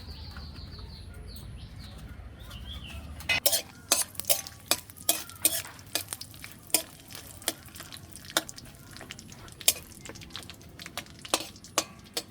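Cumin, cinnamon and cardamom drop into hot oil for a goat meat curry; after a few seconds of quiet room hum, a sharp crackling sizzle starts, with close, irregular pops and spits.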